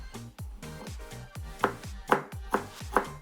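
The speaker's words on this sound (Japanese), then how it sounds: "じゃあ人参みじん切りにしていきます。" A knife chops carrot on a cutting board, first slicing thin and then cutting into fine strips, with about a dozen quick, crisp strokes that grow sharper and louder toward the end, close by with no talking.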